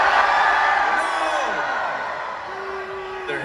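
Live concert crowd at Stubbs in Austin, Texas, cheering, whooping and yelling in a dense, sustained roar that fills the space, with a voice calling out over it near the end.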